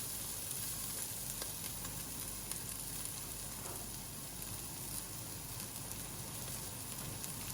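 Chopped red onion frying in olive oil alongside bulgur in a pan, a steady dense sizzle and crackle running continuously and evenly throughout, close and fairly quiet with no talking.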